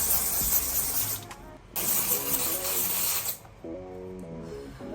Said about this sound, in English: I'm gonna start off with Nivea body spray.